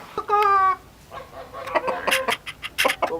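Chickens at a farm animal sanctuary give a few short, bright clucks and squawks in uneven bursts, fairly close, with quieter clucking and some background noise in between.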